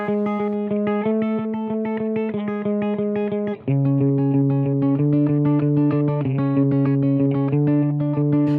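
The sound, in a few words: octave pattern in video game music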